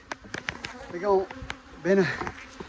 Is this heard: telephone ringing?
no